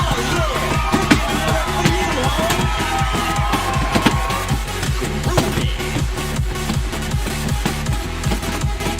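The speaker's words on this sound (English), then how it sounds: "Come on, check that crowd. They love it." Crowd cheering in the DanceDanceRevolution A20 arcade game, whoops and yells buried under a loud pounding dance beat that dominates throughout.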